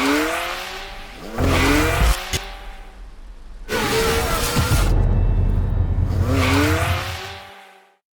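A simulated race car engine in a sim racing game rises and falls through revs with pitch-sweeping gear changes, loud and close, in three bursts separated by pauses, ending in a fading roar.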